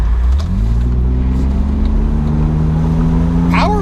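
A BMW Z3 roadster with a 170-horsepower engine accelerates while driving, its engine note rising steadily in pitch under loud, constant road noise.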